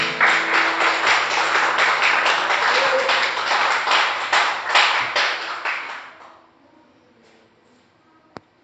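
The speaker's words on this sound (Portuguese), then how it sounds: "Você pode dar mais um aplauso ao Senhor Jesus." A church congregation at a worship service applauding, a busy crowd of claps that runs steadily for about six seconds and then stops abruptly, followed by near silence broken by a single sharp tap.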